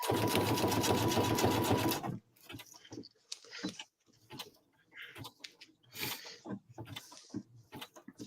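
A sewing machine runs in a dense, steady stitching burst for about two seconds and then stops abruptly, leaving quiet scattered clicks and small handling noises, close and without talk.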